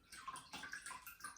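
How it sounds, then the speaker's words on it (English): Corn still in its husk is dunked in water, giving a short, soft burst of splashing and gurgling with quick sloshing pulses. "I'm just going to dunk this in the water so that it's"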